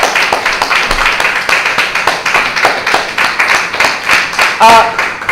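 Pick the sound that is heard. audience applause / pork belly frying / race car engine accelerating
audience applause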